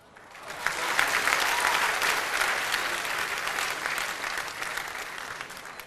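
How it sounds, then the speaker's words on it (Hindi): A crowd applauds in honour of the poet Dr. Bashir Badr, a full, sustained burst of clapping that swells in quickly and stays dense and loud for several seconds. "डॉक्टर बशीर बद्र के सम्मान में तालियां बजनी चाहिए"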